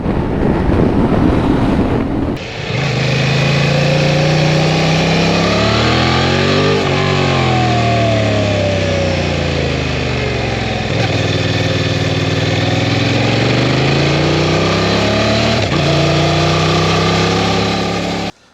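A 2023 Honda Transalp XL750 motorcycle engine drones loud and close while riding, its pitch repeatedly rising and falling as the revs change, under constant heavy wind rush with no talking.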